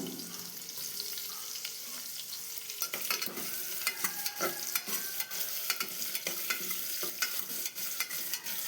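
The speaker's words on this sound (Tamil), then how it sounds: "வெங்காயம் சேர்த்து நல்லா வதக்கி விட்டுக்கலாம்" Sliced onions sizzle steadily in a pan for kuska biryani, with a continuous frying hiss broken by frequent sharp scrapes and clinks of a spoon stirring, growing busier in the second half; no one speaks.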